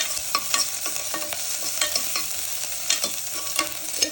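A small green chili sizzles and fries in a pan as the base for tomato soup, a steady hiss broken by light clicks and scrapes of stirring, with no one speaking.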